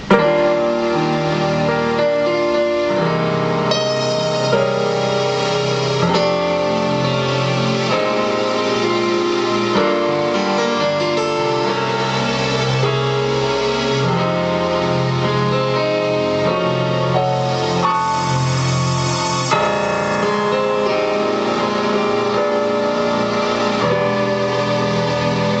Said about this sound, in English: a grand piano, natural grand piano and strings